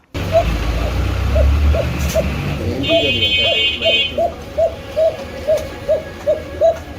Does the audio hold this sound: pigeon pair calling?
yes